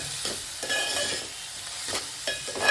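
Onions being stirred in a hot pan for a simple chicken fry: a utensil scrapes and pushes through steady sizzling, with a few louder scraping strokes, close up and with no talking.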